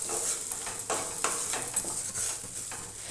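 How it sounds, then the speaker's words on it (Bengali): Ground cumin being stirred in a pan, a spoon scraping the metal in repeated quick strokes over a faint sizzle, close and fairly quiet. "নেড়ে নেব মশলাটা ভালোভাবে।"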